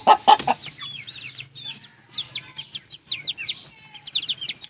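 Golden Buff chickens, a feather-footed breed, clucking and chirping close by, with a few loud squawks at the start and then a steady run of soft clucks and trills.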